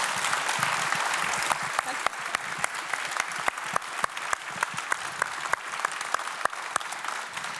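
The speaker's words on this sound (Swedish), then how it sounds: "så får ni ge en liten applåd" Audience applause at the close of a Swedish conference day, with a steady bed of clapping and sharp individual claps standing out. A voice speaks briefly near the start.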